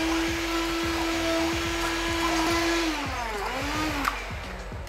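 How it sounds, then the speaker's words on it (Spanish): A blender whirs steadily and loudly while blending melted butter with salt and pepper, its motor pitch dropping and wavering near the end, close and alone. "Así que ahora vamos a pasar a licuar."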